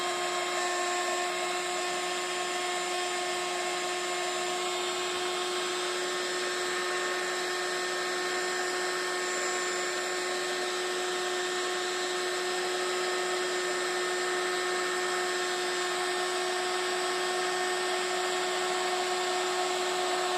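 A steady high-pitched whine of a heat gun blowing hot air over card-making materials runs continuously and evenly throughout, loud and close with no pauses.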